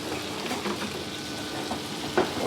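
Chanterelle mushrooms frying in fresh butter in a pan, a soft steady sizzle close by with a few light stirring scrapes, fairly quiet and without talk.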